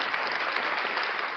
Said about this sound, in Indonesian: Yang mau menang semua tepuk tangan yang paling meriah untuk Tuhan Yesus yang dahsyat